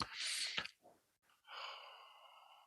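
A voice imitates ujjayi breathing, a throaty breath pushed from the back of the mouth. Two breathy rushes sit close to the mic, first a loud hiss, then a softer, longer breath after a short pause.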